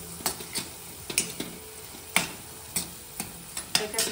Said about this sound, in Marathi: आता कांदा लालसर होईपर्यंत आपल्याला परतून घ्यायचा आहे